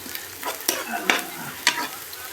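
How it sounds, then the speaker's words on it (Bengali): Onions frying in a pan are stirred with a utensil, giving a few distinct scraping strokes over a steady close sizzle; no one speaks. "আর 2 মিনিট মতো একে নাড়বো, তাহলে পেঁয়াজটা হয়ে যাবে।"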